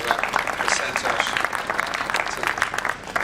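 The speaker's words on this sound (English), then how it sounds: "So a big round of applause for Santosh." An audience at the Tata Technologies InnoVent 2024 event applauds, a dense and steady round of clapping that fills the whole stretch at an even level before easing slightly near the end.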